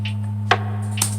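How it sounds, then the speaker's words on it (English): A clean snare drum sample drenched in reverb plays in a lofi hip hop beat. Two crisp, spaced hits ring out over a steady low hum. "I found a pretty clean snare, so I just added the snare in"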